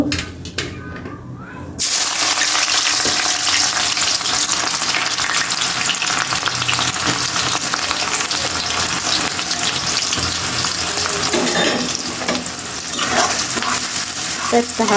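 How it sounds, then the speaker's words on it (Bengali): Onions hit a hot kadai and a loud, dense sizzle bursts on after a brief quiet start. The hiss holds strong and close for the rest of the stretch, with occasional stirring scrapes. "হালকা একটু ভেজে নিই"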